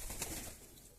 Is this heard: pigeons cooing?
yes